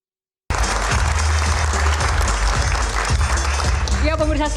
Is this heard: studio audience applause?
yes